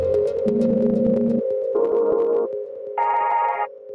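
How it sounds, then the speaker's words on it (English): Short, bright synth chord stabs layered over a sustained pad, stepping through several pitches in a minimal house style, each stab clipped and rhythmic. "use pad samples to create like minimal house chord stabs"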